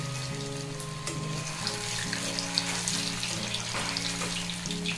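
Paneer kofta balls frying in hot oil, a steady close sizzle with crackling bubbles and a faint watery hiss running throughout, no voices.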